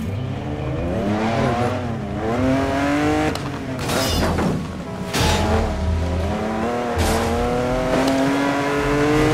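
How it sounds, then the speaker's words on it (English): A Lamborghini in the 2012 Need for Speed: Most Wanted racing game, its engine loud and steady with rising and falling revs, gear shifts, and bursts of tire noise throughout. "Driving a Lamborghini!"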